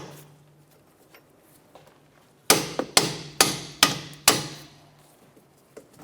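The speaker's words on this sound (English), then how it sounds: "I'm just going to go ahead and tap these bolts." A hammer strikes the strut-to-knuckle bolts on a 2006-2013 Chevrolet Impala, six sharp metallic taps in a fairly even rhythm, close and loud over a quiet background.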